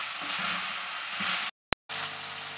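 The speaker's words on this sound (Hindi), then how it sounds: "अब हम सारे मसालों को और प्याज टमाटर को अच्छी तरह चिकन के साथ भूनेंगे" Chicken sizzling and frying in a pan with onions, tomatoes and spices, a steady close hiss that breaks off abruptly, then a short tone and a quieter sizzle.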